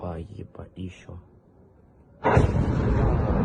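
Explosions in war footage of attacks on the city of Bryansk: a sudden loud blast rumbles in after a stretch of speech and quiet, followed by a sustained roaring wash of noise.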